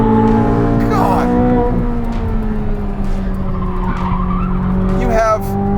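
A 2023 Chevrolet Corvette Z06 driven hard, its engine roaring loud and close with rising and falling tones while tires squeal through a corner; a voice is faintly audible beneath.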